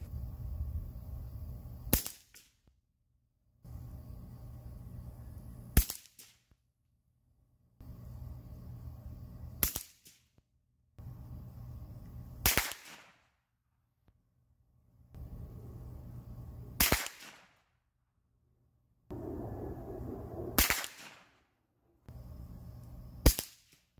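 Gunshots at a shooting range while a rifle is being zeroed: sharp single cracks spaced several seconds apart, each one loud and close, with quieter background noise between them.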